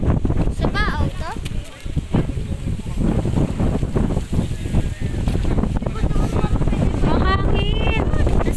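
Strong typhoon wind during Typhoon Kristine, buffeting loudly and continuously against the microphone in heavy gusts, with people talking and calling out through it.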